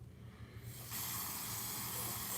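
A steady, close aerosol spray hisses continuously for a couple of seconds after a brief quiet start.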